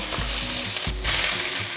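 Bamboo shoots and king oyster mushrooms stir-fry with preserved mustard greens in a hot oiled wok with a loud, continuous sizzle, broken by quick scraping strokes as they are tossed.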